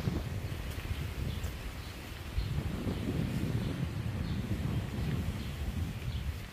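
Steady wind blows outdoors among garden flowers, a continuous low rumbling buffet on the microphone with faint rustling and a distant bird or two, no voices.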